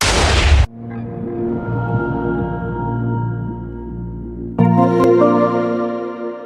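A huge TNT explosion in Minecraft opens with a loud blast, then a long, rumbling echo of debris and crackling, with a second sharp boom hitting near the end.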